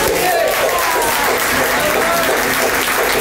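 Dense, loud applause from a tango milonga audience at El Beso, honouring a musician with a tango quartet: a continuous wash of clapping hands filling the whole moment.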